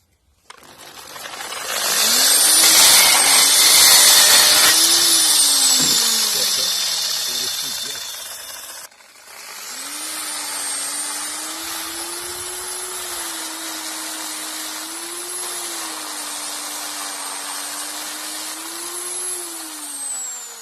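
A homemade screw-cone wood splitter's electric motor, switched on with a foot pedal, spins up to a steady whining hum, cuts out briefly, then runs again, close and continuous.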